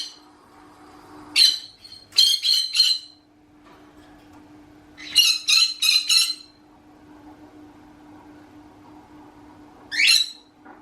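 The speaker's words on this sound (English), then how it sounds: "conures in general like to shout, and their alarm call can be quite piercing" Conure parrot calls in three loud, piercing bursts of harsh repeated squawks and shrieks, the middle burst longest, separated by quieter stretches with a low steady background hum.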